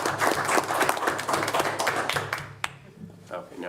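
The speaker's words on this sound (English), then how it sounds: "I think he deserves some applause for that." Applause at a city council meeting, a steady patter of clapping from the chamber audience lasting a few seconds, then tapering off to a single sharp clap and low room sound.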